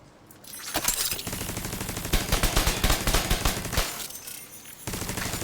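Loud, continuous bursts of rapid gunfire from a turret in a video game with an Artificer hive build, hammering away with a few brief pauses and no talk.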